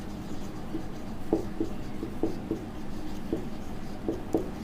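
Chalk or pen strokes on a board during a math lesson, a series of short scratchy taps and scrapes in an irregular rhythm, fairly faint with no talking.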